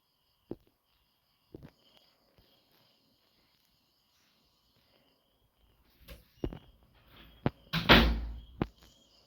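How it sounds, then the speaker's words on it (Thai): A door opens and closes indoors with a few sharp knocks and clunks, starting with isolated taps and ending in a cluster of louder thuds and rattling, with faint insects chirping in the background. "เสียงประตูแล้วใครเข้ามาเนี่ย"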